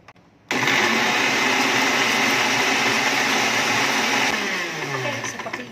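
Kitchen blender coarsely grinding bitter melon and cucumber, switching on abruptly after a brief quiet moment and then roaring loud and steady for several seconds, with a slight change in tone toward the end.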